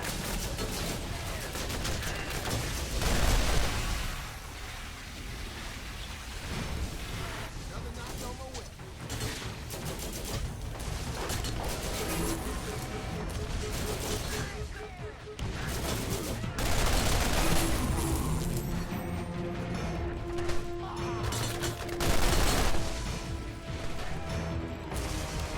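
Turret gunfire in the video game Borderlands, repeated bursts of shots and impacts over a long stretch of busy combat noise, with a voice talking in places.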